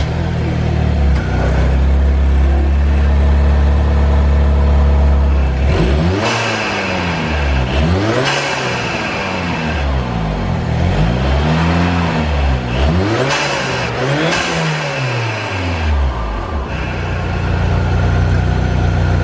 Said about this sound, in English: we have to rev it a couple more times, just that way you guys can hear one more time how good this sounds with the open air intake